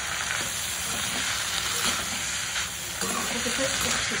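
Sweet corn poha with turmeric and spices is mixed in a pan over low heat, giving a continuous close sizzle and hiss with soft stirring scrapes throughout and no talking.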